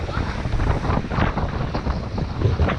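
Strong wind buffets the microphone on the open shore of Shirley Lake in Algonquin Park, a constant rough rumble with gusting swells and no talk throughout.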